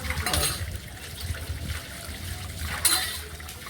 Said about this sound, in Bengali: দেখো কীভাবে একটা একটা করে ধুচ্ছে, যাতে কোনো ময়লা লেগে না থাকে।